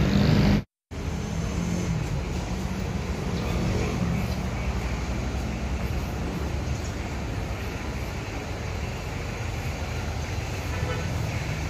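A car pulls out of a garage at a house with a small store, heard as a steady, fairly loud engine and road rumble for the whole stretch, with a brief dropout near the start and faint traffic around it.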